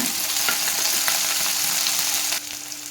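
Tomatoes and green chillies frying in oil for a brinjal biryani, a constant close sizzle with faint stirring scrapes, the hiss easing slightly just before the end.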